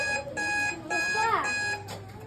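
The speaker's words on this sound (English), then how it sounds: "That's my alarm" An electronic alarm beeps in a classroom, with repeated bright tonal bursts broken by short pauses and overlaid by a warbling sweep, all under a chatter of students' voices.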